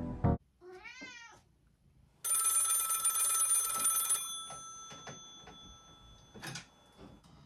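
An electronic telephone rings with a bright, sustained trill for about two seconds, preceded by a cat meowing, followed by faint clicks and handling noises.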